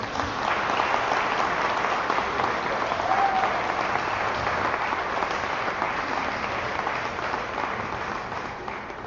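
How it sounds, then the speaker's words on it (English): Sustained audience applause at a community meeting fills the room for about nine seconds, steady and dense throughout, easing slightly toward the end, with no voices over it. "Another round of applause for Tom"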